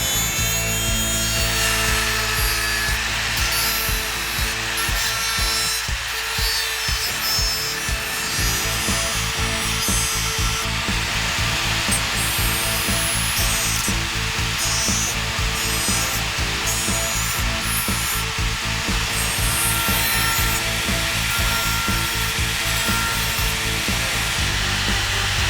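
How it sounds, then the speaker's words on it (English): A Dremel rotary tool cuts through the hood of an RC Gremlin body in a steady, loud, high-pitched whine with grinding and rubbing texture, running almost unbroken at close range for the whole stretch. "I'll use a Dremel to get most of the rest of the way through it."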